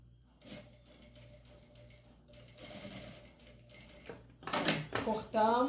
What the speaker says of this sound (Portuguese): você vai passar aqui o pezinho de máquina até chegar aqui